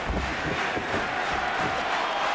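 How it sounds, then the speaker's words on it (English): Crowd of fans at a fight event clapping and applauding, a dense steady wash of hand claps and cheering noise that fills the whole moment without pause. "Look at the fans are clapping. They're applauding the performance of these two here tonight."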